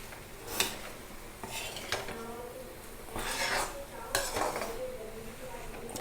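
Red chili powder is mixed into kachori filling for Jodhpur khasta onion kachori, with a spoon scraping and clinking against a metal pan in irregular strokes, moderately faint, under occasional speech.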